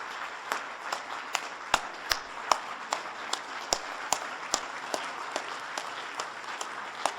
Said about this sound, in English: He deserves another round of applause, I think.